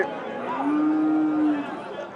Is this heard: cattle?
yes